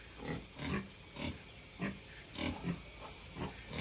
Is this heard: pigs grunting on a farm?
yes